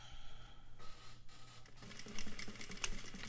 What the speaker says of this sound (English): I'm going to put my needle down, and then I'm going to start with a back stitch.